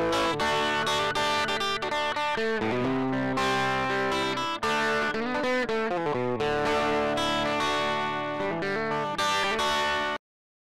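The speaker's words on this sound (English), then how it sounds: "Distortion is meant to emulate a bipolar transistor, which tend to impart a harsher, buzzier edge" Electric guitar through Logic Pro's Distortion plugin, emulating a bipolar transistor, plays a harsh, buzzy riff of sustained chords and notes, loud and continuous for about ten seconds before stopping.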